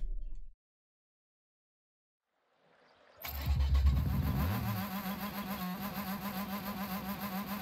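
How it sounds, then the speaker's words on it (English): Brief noise cuts off into silence, then a Rocket League car engine roars in and holds a steady, loud hum with game-like revving layered over it. "Oh, I do love this new engine sound, by the way. Sounds great."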